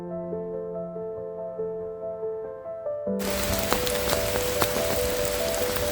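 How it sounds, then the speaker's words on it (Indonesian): Heavy rain begins on a mountain descent in Sumatra: after a steady tonal hum, a loud, dense hiss of pouring rain suddenly starts about halfway through and continues with scattered drop impacts. "diguyur hujan deras dan petir-petir."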